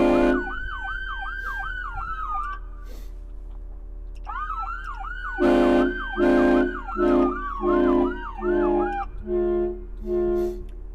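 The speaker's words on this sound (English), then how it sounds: "a siren horn button for intersections," A loud electronic siren on a fire apparatus wails in repeated rising-falling sweeps, cutting out briefly, then resuming with heavy pulsing air horn blasts layered underneath, close by.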